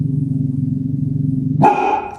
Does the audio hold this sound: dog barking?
yes